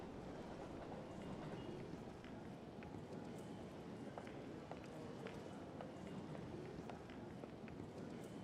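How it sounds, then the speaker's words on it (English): Faint, steady ambience on a train station platform while waiting for a train, with a dense, even murmur of noise and scattered small clicks and taps, without clear voices. "You are on a platform at a train station where you're waiting for your train."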